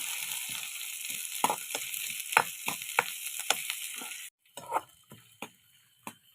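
Shallots, dried red chillies and fenugreek seeds roasting in hot oil, a soft steady sizzle with scattered sharp pops and spoon scrapes, cutting out briefly before faint stirring resumes.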